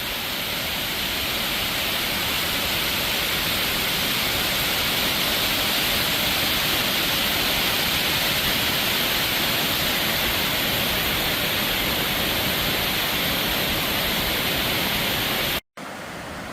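Water pours over the dam of the South Rivanna Reservoir near Charlottesville, a loud, steady, broadband roar with no voices, continuing unbroken until a brief cut near the end.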